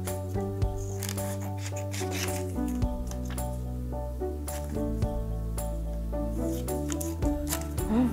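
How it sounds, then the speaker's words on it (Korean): Scissors snip through coloured paper in a classroom craft activity, giving soft close crunching cuts over a sustained musical background. "반대쪽에 있었던 노란색도 선생님이 싹둑싹둑 잘라볼게요"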